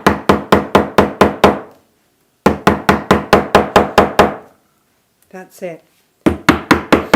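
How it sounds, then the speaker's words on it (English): A hammer drives rivets into a fabric box bag in three quick bursts of sharp, evenly spaced knocks, each burst about six or seven blows. A brief spoken remark falls in a gap between bursts. "that's still rivets, hammered in, job done"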